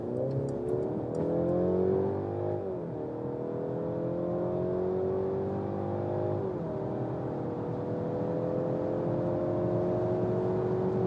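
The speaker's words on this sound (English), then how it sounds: "So we start from 50 kilometers an hour and also accelerate it out" A Mercedes C-Class or Audi A4 sedan accelerates from 50 km/h on a road, its engine note rising steadily through the gears with two audible shift dips, heard from inside the cabin at moderate level.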